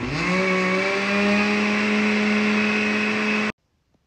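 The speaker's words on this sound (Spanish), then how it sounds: "Y todo esto lo vamos a licuar." A blender whirs through coffee, milk and cream cheese with a loud, steady motor whine whose pitch rises slightly as it spins up, running continuously and then cutting off abruptly into silence.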